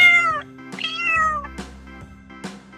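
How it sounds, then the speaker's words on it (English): A domestic cat meows several times in a row, clear and close, with rising and falling cries spaced about half a second apart over a soft background tone. "C for cat."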